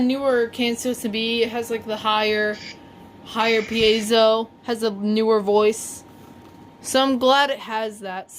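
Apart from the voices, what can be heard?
No everyday noises stand out.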